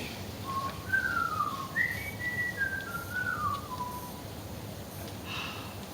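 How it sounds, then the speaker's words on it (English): A man whistles a lilting, meandering folk tune, the melody gliding up and down for a few seconds against soft outdoor background noise. "Adam whistles a merry folk tune."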